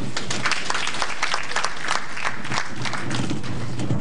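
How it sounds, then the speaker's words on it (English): An audience claps continuously, a dense, steady round of applause from many hands, with a faint murmur underneath. "I want a very, very powerful round of applause."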